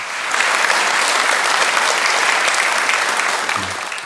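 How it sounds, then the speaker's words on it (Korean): A church congregation at a Sunday morning service claps in a loud, dense burst that swells quickly and holds steady before tapering slightly. "우리 큰 박수를 한번 보내주시기 바랍니다"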